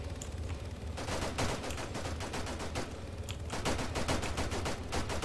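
Gunfire in the military shooter game Arma III, rapid bursts of automatic fire crackling in dense runs with short pauses, loud and continuous across the clip.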